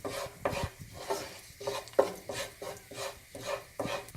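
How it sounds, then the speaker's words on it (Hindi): Spices frying in a pan for palak paneer, heard as soft rhythmic scraping strokes of a spoon roughly every half second, with a faint sizzle beneath, close and fairly quiet with no talking. "अब इसको 2 मिनट के लिए फ्राई करेंगे इन मसालों को"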